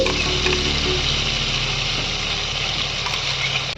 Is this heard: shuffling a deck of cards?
no